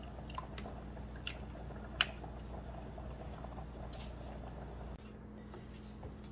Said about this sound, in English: It's important to continue to stir and check on your cheese sauce because it can stick to the bottom of your pot